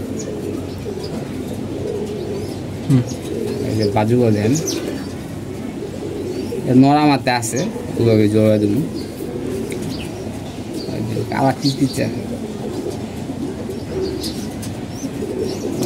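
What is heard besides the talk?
pigeons cooing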